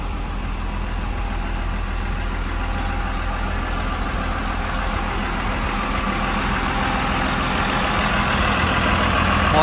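Caterpillar 928G IT28 wheel loader with a 3116 diesel engine idling steadily nearby, a constant mid-low rumble that swells slightly toward the end, no talking.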